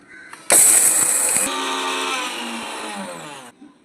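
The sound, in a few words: mixer grinder grinding roasted whole spices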